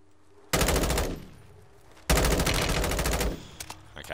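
Automatic weapon fire in Modern Warfare 3 Warzone: a short, loud burst, a pause, then a longer sustained stream of rapid shots, with a few scattered clicks trailing off afterward.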